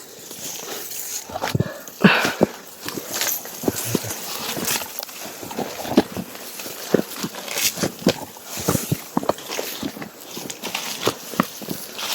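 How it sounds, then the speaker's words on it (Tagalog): Several dogs barking and yelping at a distance, mixed with scattered knocks and footstep-like clatter, with no voices. "Ang rami na dyan sa aso."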